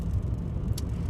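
Low, even engine and road drone from a car cruising in third gear at about 28 mph through a 30 mph zone in Newport Pagnell, with a short hiss partway through and no voices.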